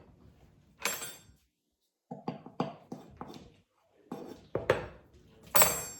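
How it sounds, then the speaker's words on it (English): A canister scoop digs into flour and tips it into a measuring cup while baking cherry bars, giving a series of close, light clinks and taps broken by short pauses. "Look how easy it is to fill up my flour into my measuring"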